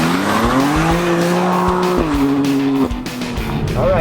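A 2020 BMW M2 CS on fresh Michelin tires runs hard around a race track, its engine loud and close as it revs steadily, then drops pitch with a gear change and climbs again, with some tire noise.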